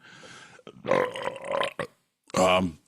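One loud, drawn-out burp comes from a man right at the mic, and talk runs before and after it.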